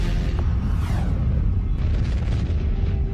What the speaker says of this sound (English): This is a gamma-ray burst, the biggest explosion to rock the universe since the Big Bang.